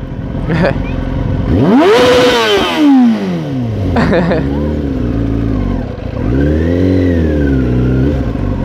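A motorcycle engine revs sharply, rising and falling in pitch, then settles into a loud rumbling idle with a few more blips nearby.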